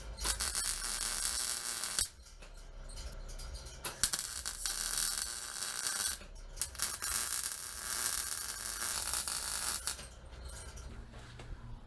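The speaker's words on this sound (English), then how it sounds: "let's weld something up." Welding on a custom steel crossmember with a beveled seam for a 1969 Chevy C10, heard as a loud, sustained crackling buzz in several long bursts separated by brief pauses.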